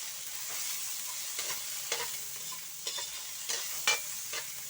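Tomatoes hit a hot frying pan while fish is being sautéed, giving a steady close sizzle with scattered clicks and scrapes of stirring throughout, no voices.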